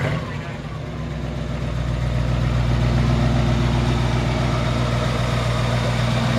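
A 1965 Ford F100 shortbed pickup with a 390 V8 runs at a steady, loud idle, its deep rumble rising as the engine is revved and then held, close to the microphone throughout.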